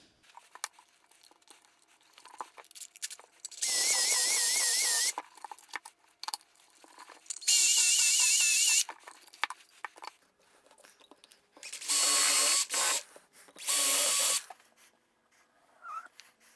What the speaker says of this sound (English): the bottom part I think I'll put together with a few pocket hole screws